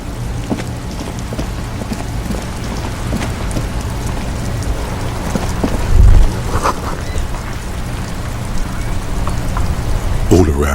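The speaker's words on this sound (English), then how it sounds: "Rain drips from the eaves and floods the gutters, washing the filth away." Steady rain pours down on a city in the video game Disco Elysium, a constant hiss of drops with a low rumble beneath and a brief deeper thump partway through.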